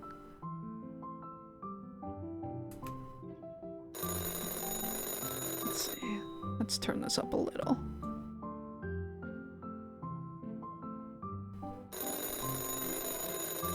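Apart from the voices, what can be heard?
telephone ringing on wall in Chocolate Factory Simulator video game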